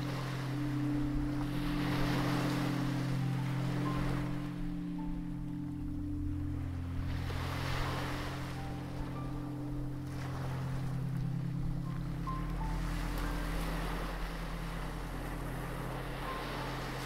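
Sea waves rolling and washing in long, slow surges that rise and fall every few seconds under a constant low rumble, soft and continuous with no voices.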